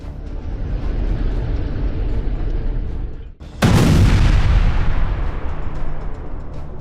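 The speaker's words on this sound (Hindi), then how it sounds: "गाजा इस वक्त ताबड़तोड़ धमाकों से दहल रहा है।" Explosions in Gaza: a sustained rumbling roar of blasts gives way to a brief lull, then a sudden loud, close boom that bursts across the whole range and decays slowly into continuing heavy rumble.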